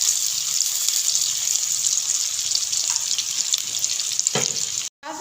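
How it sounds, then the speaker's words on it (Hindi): A large chopped onion fries in hot oil with a bright, continuous close sizzle and a few crackles while being stirred, cut by a brief silent gap near the end. "एक बड़े साइज़ की प्याज में डाल दूँगी। इसको लाइट ब्राउन तक हम फ्राई करेंगे।"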